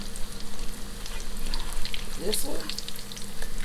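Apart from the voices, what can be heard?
salmon croquettes frying in hot grease, turned with fork and spatula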